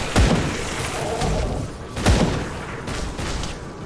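A cannon fires in the Grim Dawn action role-playing game: two heavy, booming blasts about two seconds apart, each a sharp low thud, over a steady bed of in-game combat noise.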